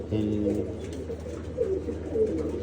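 Pigeons sitting in a flock give low, repeated throaty coos in a steady murmur, with voices talking faintly alongside.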